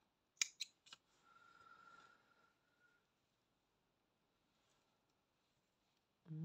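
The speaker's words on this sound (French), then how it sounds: "je coupe le fil" Scissors snip yarn during amigurumi crochet work, a few sharp close clicks in quick succession followed by a short soft rasp, then near silence.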